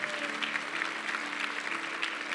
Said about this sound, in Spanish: démosle una ofrenda de aplausos al Señor Jesucristo